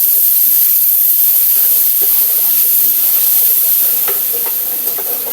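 Sauce for fried chicken gravy is stirred in a pan, the spoon giving soft scraping taps over a constant bright sizzle and hiss that runs loud and close throughout.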